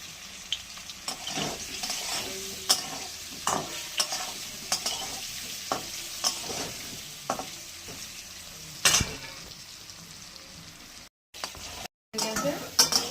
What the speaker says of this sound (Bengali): সোয়াবিনটা ভাজা হয়ে গেছে